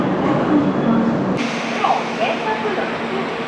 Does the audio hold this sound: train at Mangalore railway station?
yes